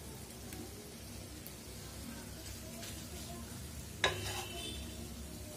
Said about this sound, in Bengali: আমি মাংসটা ভালোভাবে ভাজা ভাজা করে নিব।